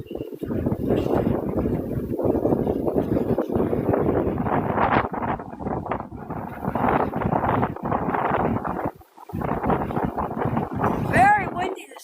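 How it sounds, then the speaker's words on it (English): Strong wind on a windy morning outdoors in Hollywood buffets the microphone with continuous low rumbling gusts, with only brief lulls. A person talks steadily under the noise throughout. "Very windy this morning."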